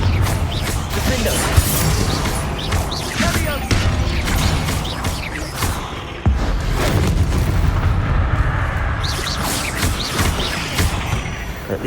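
Explosive Confringo spell blasts in the game Hogwarts Legacy, loud, dense booms and crashes running almost continuously, with a sharp hit near the middle and a rumbling, crackling bed throughout.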